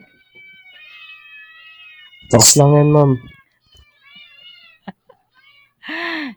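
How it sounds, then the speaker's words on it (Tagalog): Cats meow loudly, one drawn-out yowl followed a few seconds later by a second shorter meow, while someone talks quietly in the background. "May clouder ako ng pusa. Isang batalyon ng pusa."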